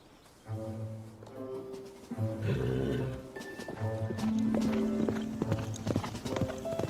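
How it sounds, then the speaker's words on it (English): Horse hooves clip-clop in an uneven rhythm over a low musical hum, with a few louder thuds and some faint background sounds, in the TV drama Murdoch Mysteries. "that's a fine horse after all"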